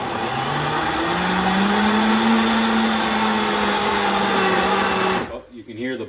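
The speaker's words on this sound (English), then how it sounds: "Oh, you can hear the blender struggling" A blender labours through a thick yucca root mixture for Brazilian shrimp stew, giving a loud, steady, strained whir that rises slightly in pitch, then cuts off abruptly, leaving a moment of near quiet.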